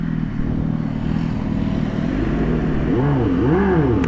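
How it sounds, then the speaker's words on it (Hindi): A simulated engine note from the speaker of a Revolt RV 400 electric bike plays as a steady motor-like hum, then rises and falls in repeated revving swoops toward the end. "इसका इंजन का आवाज़ बोला, स्पीकर वाला है।"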